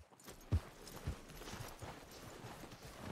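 Horse hooves clip-clopping in the video game Red Dead Redemption 2, a few faint, spaced hoof knocks over a soft background bed, no speech.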